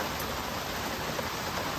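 Steady rain falling outdoors at an off-grid workshop build, a dense even hiss of drops with water running, moderately quiet and without voices.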